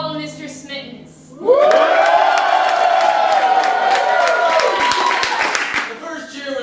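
A live improv audience roars with cheers and whoops in a sustained burst of about four seconds, loud and close, rising sharply after brief talk and fading out at the end.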